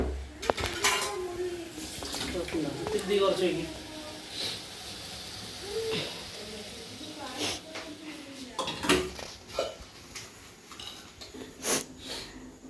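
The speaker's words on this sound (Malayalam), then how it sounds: "പാത്രം കഴുകണ് അല്ലേ" Dishes are washed by hand, with irregular clatters and clinks of pots, plates and cutlery close by while people talk.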